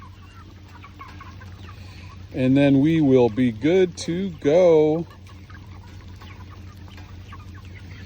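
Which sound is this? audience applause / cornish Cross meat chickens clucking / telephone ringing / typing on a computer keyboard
cornish Cross meat chickens clucking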